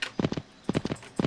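Hooves of a horse trotting in the riding video game Riding Star, with three quick bursts of clip-clop beats evenly spaced, close and fairly loud, and no talk over them.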